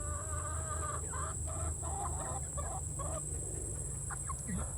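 A backyard flock of chickens, mixed older hens and newly introduced birds, clucks steadily in soft overlapping bursts nearby during feeding, with a low constant hum underneath.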